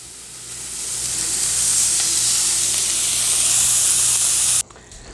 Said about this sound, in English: we're going to start cooking our hamburger patties as well